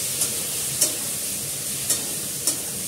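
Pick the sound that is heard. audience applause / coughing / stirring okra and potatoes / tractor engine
stirring okra and potatoes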